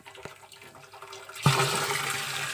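After a quiet start, water suddenly rushes into a tank with a strong, steady gush, filling it while fertilizer dissolves for drip irrigation.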